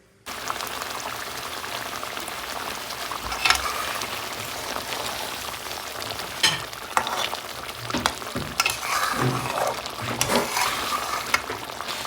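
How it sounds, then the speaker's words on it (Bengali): Fish coated in turmeric, chilli powder and salt fries in hot oil with a dense, continuous crackling sizzle, occasional louder pops and stirring scrapes throughout, and no voices. "তারপরে মাছটাকে ভেজে নেব"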